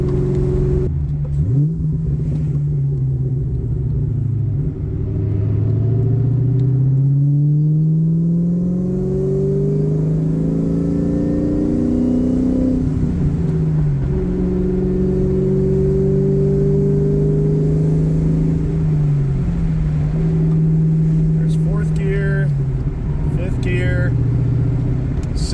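A 2004 Mustang SVT Cobra pulls through its gears, engine pitch climbing and dropping with each shift in a loud, close in-cabin drone, while a person talks over the engine.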